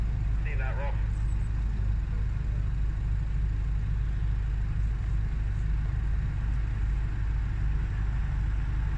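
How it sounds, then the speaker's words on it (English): A BMW police car drives past on Caistor Road in Lincolnshire, a steady, fairly loud low engine and road rumble close by, heard under wind noise. "And here's the police car coming."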